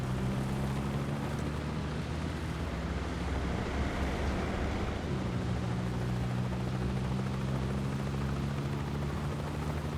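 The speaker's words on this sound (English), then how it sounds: "Bavma's heli is inbound" A helicopter in 007 First Light drones with a steady low rotor thrum and broad rushing noise, holding constant for ten seconds with no voices.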